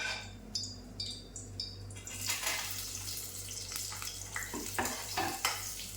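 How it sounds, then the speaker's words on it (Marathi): Onion frying in hot oil in a pan, a steady close sizzle with stirring scrapes and clinks, louder and busier after the first couple of seconds. "कांदा चांगला भाजून घ्यायचा आपल्याला"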